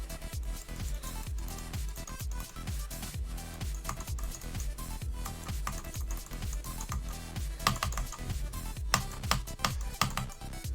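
Computer keyboard keys clack in quick bursts during a Geometry Dash session, rhythmic rapid taps riding over loud, steady game music.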